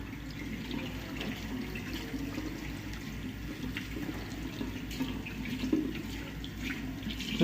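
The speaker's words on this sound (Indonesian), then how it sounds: "Setelahnya kita akan melakukan bilas tangan terlebih dahulu." A water tap runs in a steady, fairly faint stream as hands are rinsed under it at a sink during a hand-washing routine, with no voices.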